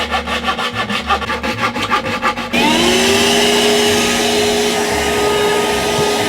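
A maple board is cut with rhythmic rasping saw strokes for a few seconds, then a power saw's motor spins up into a loud, steady whine that carries on. The sound is close, with no talking.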